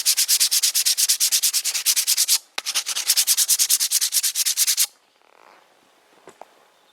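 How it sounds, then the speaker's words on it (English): Rapid, rhythmic back-and-forth rasping of coarse sanding-belt paper on a wooden axe handle, close and loud, with a brief pause, then quiet handling noises at the end. "Just rubbing it down with this very coarse grit paper"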